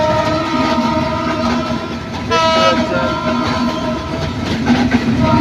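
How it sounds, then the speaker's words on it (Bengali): A train bound for Kamalapur in Dhaka passes close at speed with a loud, continuous rumble and rattle of cars. A horn blast sounds partway through, with faint voices in the background. "এই যে দেখেন দুইটা ট্রেন এটি আসতেছে এদিক থেকে।"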